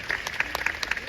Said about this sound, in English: They're gonna get tired with these applause